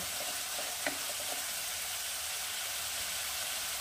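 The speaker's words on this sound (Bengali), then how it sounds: "এবারে দিয়ে দেবো আদা রসুন বাটা। এটাও আমি খুব ভালো করে কষিয়ে নেব।" Ginger-garlic paste fries in a pan for a Bengali duck egg do pyaja, giving a steady, even sizzle throughout with a few soft stirring taps early on, and no talking.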